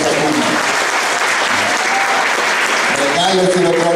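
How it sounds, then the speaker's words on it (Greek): A big round of audience applause greets a school choir at a national school choir gathering, a dense steady clapping throughout, with a voice speaking over it toward the end. "παρακαλώ περάστε με ένα μεγάλο χειροκρότημα."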